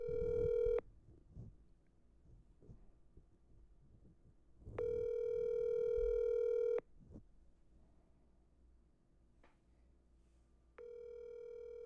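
Phone call ringing out: three long electronic ring tones, each about two seconds, separated by roughly four-second gaps, with faint background noise in between and no speech.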